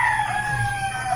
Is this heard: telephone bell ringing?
no